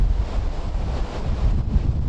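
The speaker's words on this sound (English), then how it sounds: "this wind right beside the water is kicking still" Strong wind gusts beside the water during a late-season whitetail deer hunt, buffeting the microphone with a loud low rumble that swells and dips throughout.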